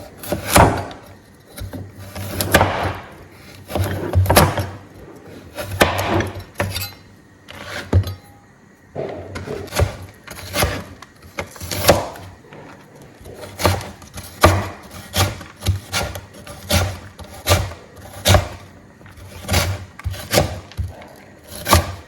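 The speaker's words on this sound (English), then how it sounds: "I'll continue to chop my coconuts, slice it into little pieces," A knife chops fresh coconut into small pieces on a board for a coconut toffee brittle, a long run of sharp, close, irregular whacks and taps with short pauses between bursts and no voice.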